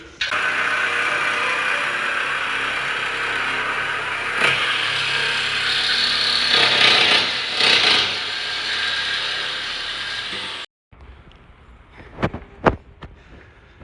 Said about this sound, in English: Cameron's gonna take a Sawzall and cut the exhaust